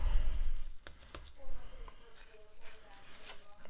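Bean fritters frying in a pan on a home stove: a soft, steady sizzle with a few brief clinks, heard close and at moderate level, with no talk over it.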